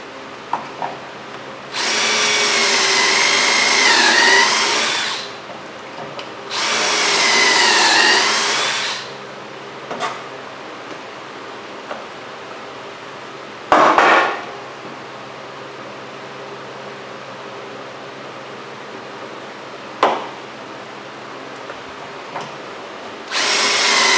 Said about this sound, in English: start cutting these panels with my angle grinder